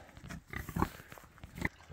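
Pigs in a muddy farm yard near a small pig shelter give soft, intermittent grunts and snuffles, fairly faint and close, with no talking.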